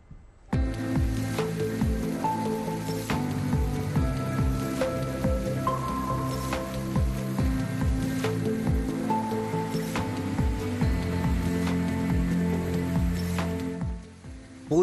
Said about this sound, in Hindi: गुजरात में इन दिनों झमाझम बारिश हो रही है।